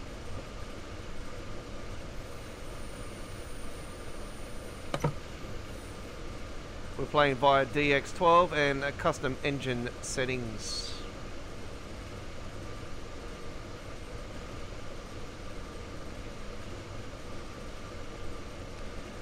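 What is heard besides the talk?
train running in a train simulator video game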